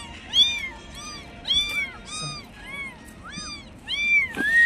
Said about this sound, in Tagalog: Kawawa maliliit na mga pusa.